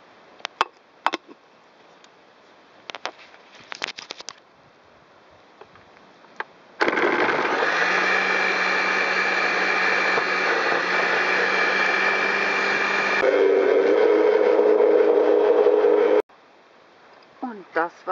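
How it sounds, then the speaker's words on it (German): A countertop blender purees avocado, garlic, salt and raw nettle spinach, running steadily for about nine seconds with a shift in pitch midway, after some brief clatter and handling noises, then stopping. "versucht das Ganze jetzt mal zu pürieren"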